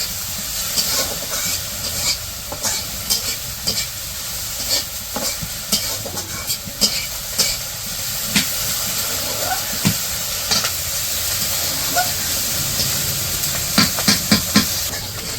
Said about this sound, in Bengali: তেল দিয়ে একটু ভেজে নিব